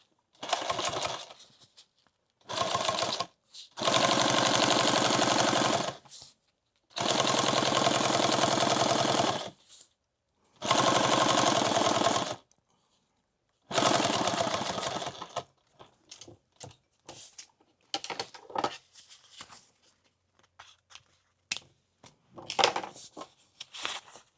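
A sewing machine stitches a leather pouch for a Leatherman tool in five loud, close bursts of rapid mechanical whirring separated by pauses, followed by lighter clicks and handling sounds.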